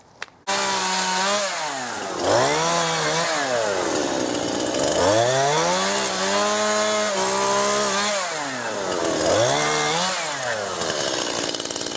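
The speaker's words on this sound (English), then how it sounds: "The chainsaw with a new blade is a fearsome tool." A loud chainsaw with a new chain cutting willow close by, its engine pitch dipping and rising repeatedly as it bites through.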